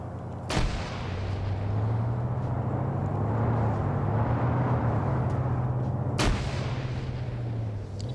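Video game gunfire from a large multiplayer PvP match in OFCRA: two loud, sharp shots ring out several seconds apart over a constant low rumble of battlefield ambience.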